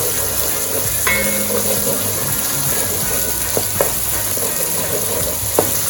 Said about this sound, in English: we have to cook out to get the flavor out the tomato paste and cook it for a couple of minutes well